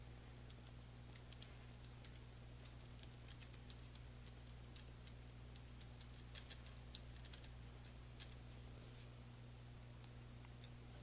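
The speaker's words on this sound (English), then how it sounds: "type the information that you want to have appear in the signature into the Edit Signature text box provided" Continuous typing on a computer keyboard, entering text into an email signature box in Outlook 2013; rapid, steady key clicks close up and fairly quiet over a low constant hum, with no talking.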